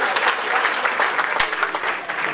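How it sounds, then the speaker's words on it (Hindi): Dense audience applause at a Hindi poetry and comedy shayari gathering, loud and steady clapping from a full crowd that carries on without a break for a couple of seconds. "एक बार जोरदार ताली हो जाए"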